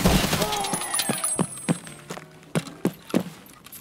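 Gunfire in Escape from Tarkov, an opening burst followed by a run of sharp single shots at uneven intervals, loud and close, with a brief cracking impact mixed in.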